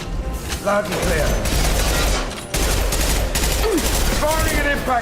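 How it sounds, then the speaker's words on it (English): Impact shot gunfire in Mass Effect Legendary Edition on Insanity difficulty: loud, rapid bursts of weapon fire and impacts crowd the scene, pausing briefly midway before resuming, with voices underneath. "Firing an impact shot."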